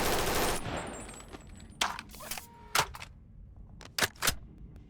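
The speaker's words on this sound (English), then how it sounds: "Next up is the AR-15 SLR. It's another 30-round assault rifle, but it fires very fast." An AR-15 SLR assault rifle with a 30-round magazine fires fast in the video game BONELAB: an opening burst, then several sharp, separate shots and short bursts with quiet gaps between them.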